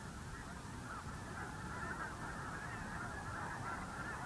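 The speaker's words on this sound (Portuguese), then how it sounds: "Os gansos sentem-se atraídos." A large flock of geese in the Klamath Basin, heard as a faint, continuous mass of distant honking that blends into a steady wash of sound with no single call standing out.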